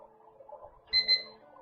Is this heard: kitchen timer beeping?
yes